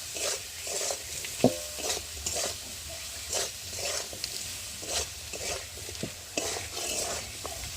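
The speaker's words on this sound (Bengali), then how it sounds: "দিয়ে মশলাটা ভালো করে একটু কষিয়ে নেব" Ground spices, including chili powder, sizzle steadily in a hot pan for dal while a utensil scrapes and stirs in repeated strokes, close up with no talking.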